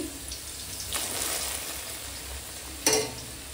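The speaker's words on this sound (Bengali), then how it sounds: "এই ডালে ফোড়ন দিয়ে দিচ্ছি" A tempering of lightly fried onion and green chilli hits a pot of masoor lentil dal. There is a steady hot sizzle, then one sharp louder hiss as it goes in, fading back to a simmering crackle. No one speaks.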